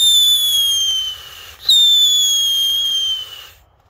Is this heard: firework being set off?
yes